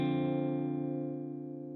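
Guitar through an AmpliTube MESA/Boogie amp simulation in clean mode at lower wattage, a single sustained chord ringing out with rich harmonics and slowly decaying, heard alone.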